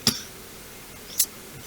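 Two sharp, separate coughs about a second apart, the first slightly louder, each brief and close with quiet in between.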